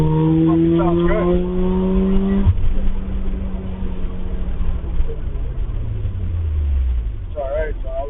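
Mazda RX8 rotary engine revving up and settling, a steady droning engine note that rises and falls, with faint sliding tonal sounds near the start and end.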